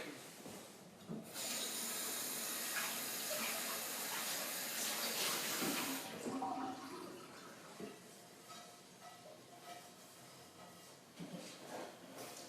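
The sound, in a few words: washing out an iron skillet under running water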